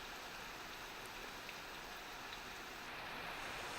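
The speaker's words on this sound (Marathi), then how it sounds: "आज सकाळी वातावरण ढगाळ झालं आणि अनेक भागात रिमझिम ते मध्यम स्वरूपाचा पाऊस सुरू झालाय" Monsoon rain falling steadily in Mumbai, a soft, even hiss of drizzle to moderate rain with no voices, faint and constant throughout.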